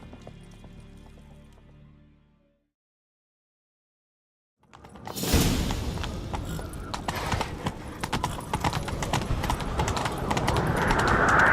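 Rhythmic hoofbeats of a galloping horse in The Witcher 3: Wild Hunt come in loud after a brief silence, with clattering mechanical noise and a rising rumble behind them.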